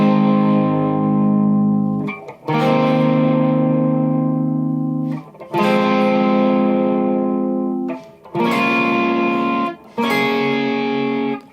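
An electric guitar in standard tuning plays the opening line of a song as four sustained, ringing chord phrases separated by short gaps, with a clean, slightly effected tone and no talking.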